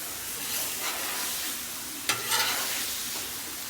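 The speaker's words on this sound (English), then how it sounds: "Another couple minutes and this hamburger will be fully browned." Hamburger meat browning in a pan, a steady close sizzle with a few scrapes of stirring and a brief louder clatter partway through.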